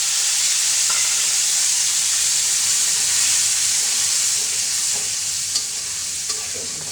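Ginger, onion and garlic paste with chili powder, turmeric and salt fry in hot oil, a loud steady sizzle and hiss with faint spatula scrapes and stirring clicks near the end.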